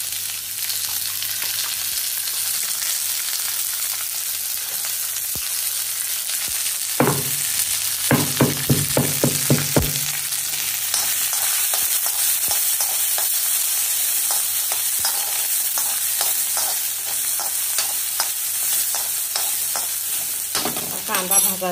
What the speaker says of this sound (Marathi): कांदा भाजायला लागलाय